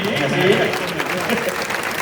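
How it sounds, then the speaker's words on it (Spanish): Audience applause at a tribute event with bagpipe music, a dense steady clapping under a murmur of crowd voices throughout. "Vamos a dar un aplauso"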